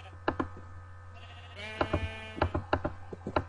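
Sheep bleating in the video game Minecraft: a single drawn-out, wavering bleat rises over a steady low hum, surrounded by sharp repeated clicks and taps from gameplay, fairly quiet and close.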